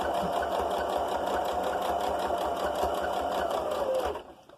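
A sewing machine runs steadily, stitching a fabric face covering with a rapid, even mechanical chatter that continues for about four seconds and then stops.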